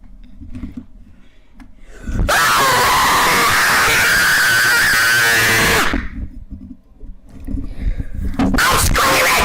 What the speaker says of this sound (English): I'm screaming to the top of my lungs!